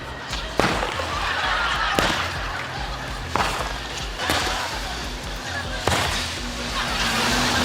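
Bat smashing an object, several sharp loud cracks struck at irregular intervals of roughly a second or two, over a noisy background.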